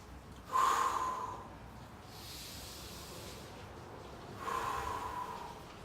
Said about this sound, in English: Breathe first.